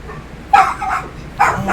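Dogs barking in World of Warcraft: two bursts of yipping barks, the first short and the second longer and louder, close and clear over a faint game background.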